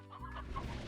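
A chicken clucks briefly in a video game, one short close cluck over faint background sound.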